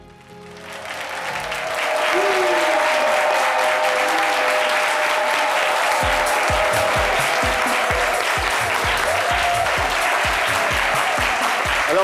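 A television studio audience bursts into loud, sustained applause for a guest's arrival, swelling within two seconds and holding as a dense, even roar of clapping to the end.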